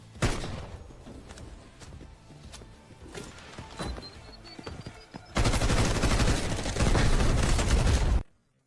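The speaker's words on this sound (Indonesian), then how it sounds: "Terdengar suara tembakan di kantor presiden." Scattered video-game gunshots crack in separate bursts, then a sustained barrage of rapid automatic fire erupts and stops abruptly.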